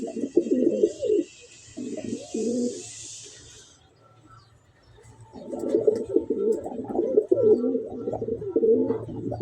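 Pigeons coo loudly and close by in a domestic loft, their low throaty rolling calls repeating in bursts, pausing briefly around the middle, then resuming in a long continuous run; faint high hiss and chirps sit in the background.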